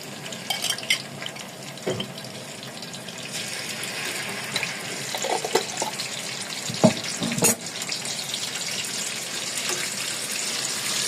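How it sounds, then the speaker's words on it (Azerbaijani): Tomatoes frying in hot oil in a home kitchen, a steady close sizzle with occasional clinks and scraping of a utensil in the pan, no voices. "Tomatı yağda dağ edirəm."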